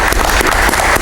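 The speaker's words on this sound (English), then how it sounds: "Give them a round of applause." Village board meeting audience applauding wastewater workers, a brief, loud, dense patter of clapping without talk.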